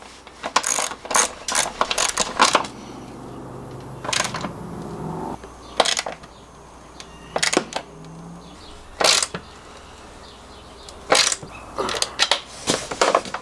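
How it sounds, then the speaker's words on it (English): A ratchet clicks in quick bursts while tightening bolts on a roof-mounted van awning, several separate runs of sharp close clicks with short pauses between them and no talk. "I'm going to tighten down all these bolts"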